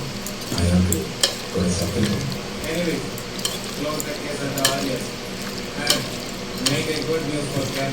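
Sliced onions coated with turmeric, salt and chili powder are turned in a hot pan, making a close sizzle with repeated scraping stir strokes and soft clinks. A voice speaks briefly near the start.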